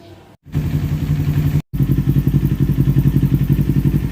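A Kawasaki Ninja 400 KRT with a full NJT Racing exhaust system idles with a deep, loud exhaust rumble, cut off briefly twice by the rev limiter, then settles into a steady throbbing beat.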